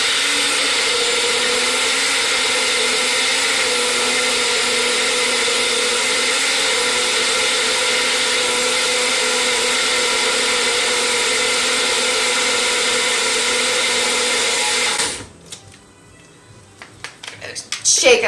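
A blender whirs steadily and loudly for about fifteen seconds while mixing gluten-free vegan pancake batter, then cuts off abruptly, leaving quiet kitchen clatter.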